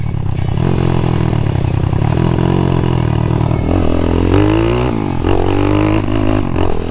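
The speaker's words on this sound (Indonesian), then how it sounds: "Ini baru motor kecil tenaga besar bos." A small Honda Supra motorcycle engine revs hard and loud, its pitch climbing and dropping through several gear-like surges, with steady engine roar throughout and no talking.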